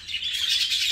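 Large exhibition-type jumbo budgerigars in a breeding aviary chirp and twitter continuously in a dense, busy chorus of high bird calls with no talking.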